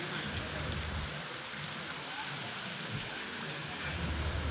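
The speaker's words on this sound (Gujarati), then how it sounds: "અરે વરસાદ ચાલુ થઈ ગયો છે" Steady heavy rain hisses across surfaces at the Mahuva market yard, a dense, continuous wash of drops with no pauses and no voices.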